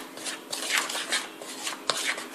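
Sugar and salt being stirred together for French toast, a steady scraping and rubbing of a utensil against a bowl in quick repeated strokes.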